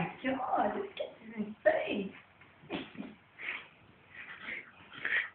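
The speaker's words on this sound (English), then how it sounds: "He's snorting like a pig." A child makes repeated snorting, pig-like noises in short irregular bursts, close to the microphone, with some voices mixed in.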